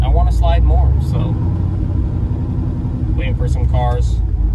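A 700 hp turbocharged Silverado drift truck rumbles deeply at low revs on the street, a steady loud engine drone throughout while someone talks over it.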